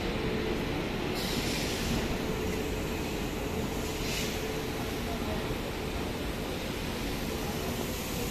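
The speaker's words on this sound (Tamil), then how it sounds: "நம்மளுக்கு ஆப்போசிட்டில் ஒரு ட்ரெயின் கிராஸ் பண்ணது பாருங்கள்" A train passes in the opposite direction on the Trichy–Bengaluru line, a steady loud rumble and rush of wheels and wind heard from inside a moving carriage, with a faint squeal partway through.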